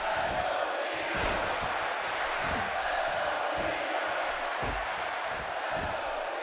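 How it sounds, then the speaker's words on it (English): A large wrestling arena crowd in the video game WWE 2K17 roars steadily, a dense wall of cheering and chanting voices with rhythmic swells, sustained loud throughout. "And listen to this crowd."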